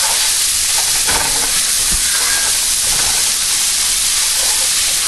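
Garlic fries in about a tablespoon of olive oil in a hot pan, giving a loud, steady, close sizzle with a few faint clinks and stirring sounds underneath.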